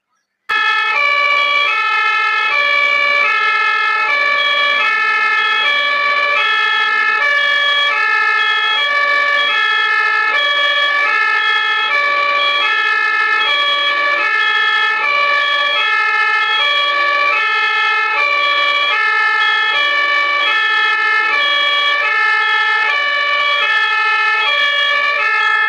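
An ambulance siren wailing through German traffic, a loud, steady two-tone cycle repeating without pause for about twenty-five seconds, close and dominant over faint road noise.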